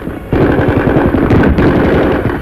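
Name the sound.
gunfire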